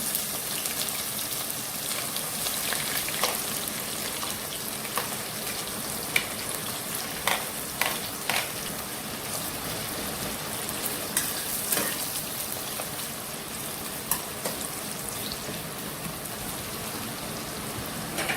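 Onions for mutton korma frying in a pan, a low, steady crackling sizzle with scattered sharper pops throughout, close by and fairly quiet, no voices.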